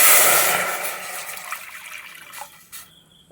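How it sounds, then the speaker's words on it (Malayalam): Half a litre of water poured into a heated steel pot on a stove for a Kerala-style vegetable stew: a loud rushing hiss that fades steadily over about three seconds, ending with a few small clinks. "സ്റ്റീൽ പാത്രം ചൂടായി വരുന്നു. അതിലോട്ട് 1/2 ലിറ്റർ വെള്ളം ഒഴിച്ചു കൊടുക്കുന്നു."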